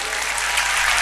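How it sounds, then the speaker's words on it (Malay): Dense, loud applause from an audience at a humorous religious talk, a continuous burst of clapping that fills the whole short moment with no voice above it. "Tepuk tangan untuk orang Madura."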